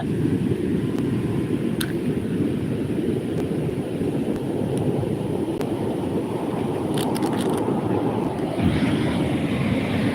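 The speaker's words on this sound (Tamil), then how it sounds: "இப்போ அலை கொஞ்சம் வேகமாக அடிக்குது கேட்டிங்களா" Strong sea waves roll in continuously along the coast, a steady broad roar with wind noise on the microphone and no voices, holding loud for the whole stretch.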